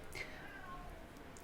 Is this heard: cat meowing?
yes